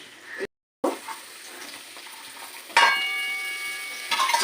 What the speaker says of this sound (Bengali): এরকমভাবে পটলগুলো আমি নুন ছাড়াই ভেজে যাবো